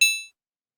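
A single bright glockenspiel-like bell tone from Ableton's Wavetable synth strikes once and rings briefly with shimmering overtones before cutting off, leaving silence.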